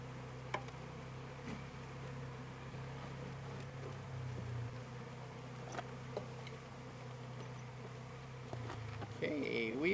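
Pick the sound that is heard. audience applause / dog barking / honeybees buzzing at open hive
honeybees buzzing at open hive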